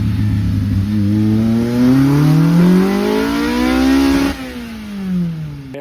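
A K-swapped mid-engine classic Mini revs hard while driving, the engine note climbing loudly through a gear, dropping sharply on the shift, then pulling again, heard up close from inside.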